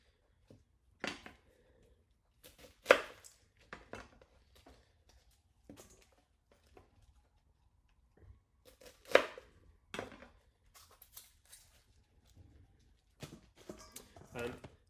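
A sharp knife chops vegetables on a cutting board, with scattered crisp knocks, some in quick clusters, at a moderate distance over a quiet room and occasional soft talking.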